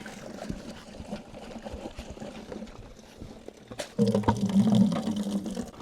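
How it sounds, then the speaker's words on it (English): A bucket fills with water from a UV-treated shallow well system. A steady splashing rush swells in partway through over a low background hum, close and moderately loud. "And now we're filling up the bucket with what is theoretically clean, drinkable water."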